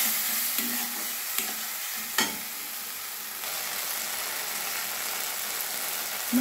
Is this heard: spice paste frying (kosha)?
yes